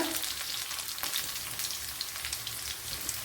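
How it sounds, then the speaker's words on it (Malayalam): Close-up, steady sizzling of hot oil with scattered sharp pops and crackles as mustard seeds splutter. "ഇവിടെ കടുക് പൊട്ടിയിട്ടുണ്ട്."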